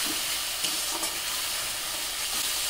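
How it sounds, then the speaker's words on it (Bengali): Fish coated in turmeric and mustard paste is stirred in a frying pan, giving a soft, continuous sizzle with faint scraping touches throughout, steady and quiet with no talking. "আমি হলুদ দিয়েও নেড়ে নিলাম।"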